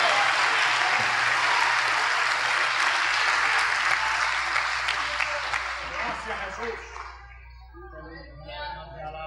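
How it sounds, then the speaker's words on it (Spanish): A church congregation claps loudly and continuously for several seconds during a Spanish-language evangelical sermon, then the applause thins out and fades toward the end, with scattered voices in the crowd. "Denle un aplauso al Señor Jesucristo"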